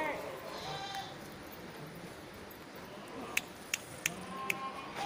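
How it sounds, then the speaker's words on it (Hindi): Goats bleat on a goat farm breeding large, 42-inch-tall bucks, a few short calls standing out near the end over steady background noise while people talk nearby. "इश्तियाक भाई ये बकरा है 42 इंच हाइट जी,"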